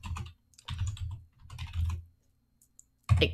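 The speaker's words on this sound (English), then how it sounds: "it's so weird typing in these gloves" Typing on a computer keyboard while wearing cheap costume gloves gives muffled, dull clicks in short bursts with brief pauses, close by.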